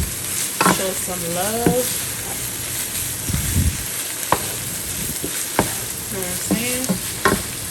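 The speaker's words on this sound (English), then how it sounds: "So I've added in the garlic and the onion. So we're gonna stir that around a bit." Garlic and onion sizzle and fry in a pan while a utensil stirs them, the frying hiss steady and close with scraping strokes; someone speaks briefly over the cooking.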